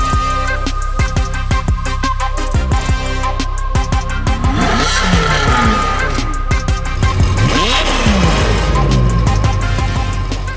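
Ferrari 812 Superfast with upgraded downpipes, its V12 engine loud and close, revving in repeated sweeping rises and drops with sharp gear-change breaks, continuous for the whole stretch with no talk.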